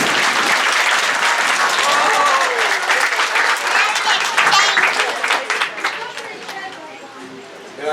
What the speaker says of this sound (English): let's give Walter here a round of applause